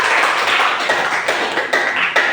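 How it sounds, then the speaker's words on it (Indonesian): A crowd of people applauding together, a steady dense patter of claps with a few louder bursts, close and fairly loud. "tepuk tangan untuk kelompok 3"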